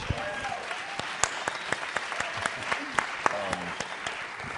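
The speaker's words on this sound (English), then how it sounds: "such a round of applause for your song" An audience at a film Q&A claps in a steady round after a song, with sharp individual claps poking out and voices talking over it.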